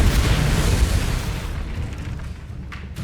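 Loud rumbling blast from a Confringo fire spell in the Hogwarts Legacy video game, a dense booming burst that fills the first second and a half, then fades into a lower, dwindling rumble with a couple of brief crackles near the end.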